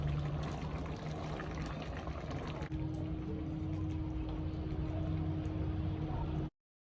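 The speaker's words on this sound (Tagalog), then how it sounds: "lalagyan din natin ng tubig upang maluto ang gulay natin" Water poured into a pot of vegetables, including sigarilyas and okra, while cooking pinakbet: a steady, close splashing pour with a constant hum underneath that cuts off abruptly.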